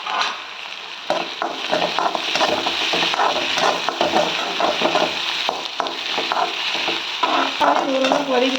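Onions stirred and sautéed in a pan for an egg curry, with a steady, close sizzle and frequent scraping, stirring strokes throughout, and no talking.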